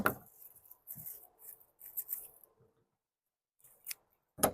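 Crisp snips and rustling as dried garlic stems are trimmed for a braid, several short cuts and rubs close by and quiet, separated by brief pauses.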